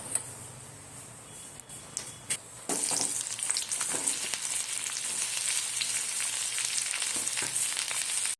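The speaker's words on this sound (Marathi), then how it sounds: "आपण आता मसाला भाजून घेऊया हा मसाला करून घेण्यासाठी आपण दोन चमचे तेल टाकूया" Ground spice masala roasts in two spoons of oil in a pan for a matar paneer curry. After a quieter start with a few ticks and stirs, a loud, steady sizzle bursts up and crackles close by.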